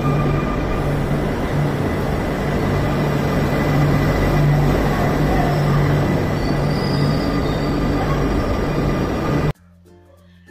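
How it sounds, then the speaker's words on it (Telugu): A double-decker train near Versailles, France rumbles steadily and close by with a continuous low roar and faint wheel squeal, then cuts off abruptly near the end. "ఇది డబుల్ డెక్కర్ ట్రైన్"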